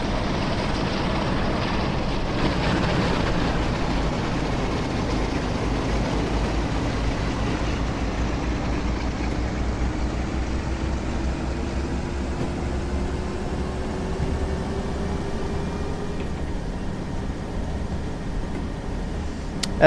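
A Pacer diesel multiple unit train with a Leyland engine, heard as a continuous low droning engine rumble with a slowly rising tone, steady and moderately loud throughout with no voices.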